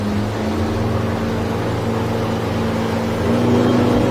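A Stabicraft 2050 SuperCab motorboat with a Yamaha F175XA outboard roars steadily up close while turning sharply, a loud continuous drone that rises slightly toward the end, with water rushing underneath.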